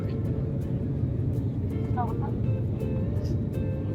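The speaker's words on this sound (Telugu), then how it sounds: "Flight is landing Hyderabad." Inside an airliner cabin descending to land at Hyderabad's Rajiv Gandhi International Airport, a constant deep engine roar and airflow rumble fills the space, with a few faint voices and small clicks.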